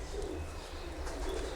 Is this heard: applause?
no